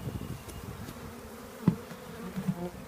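A low, steady insect hum of a honey bee swarm being collected in Melville, Western Australia, fairly faint, with a few louder buzzing passes close by.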